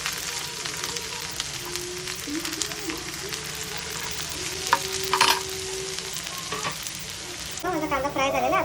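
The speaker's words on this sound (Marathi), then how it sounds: "हे बघा हे माझं तेल आता चांगलं गरम झालेलं आहे. त्याच्यामध्ये मी कांदा टाकला." Onion frying in hot oil in a pan, a continuous close sizzle with scattered clinks and stirring scrapes, louder crackle toward the end, no talk.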